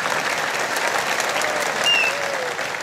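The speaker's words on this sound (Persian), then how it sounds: "بله، تشویق کنین" A classroom audience claps for a student's correct answer in a school quiz, dense continuous applause filling the whole moment with no talk over it.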